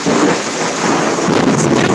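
A close lightning thunderstorm in Pittsburg, Kansas produces a steady, loud roar of thunder rumble mixed with rain and wind noise, continuous for the whole stretch without voices.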